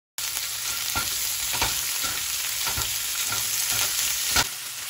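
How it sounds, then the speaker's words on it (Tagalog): Ground beef and onion sautéing in a pan, a steady close sizzle with repeated scraping stirs of a utensil throughout, no voices. "ilagay na rin natin itong ground beef natin. At isir lang natin ito hanggang maging light brown ito."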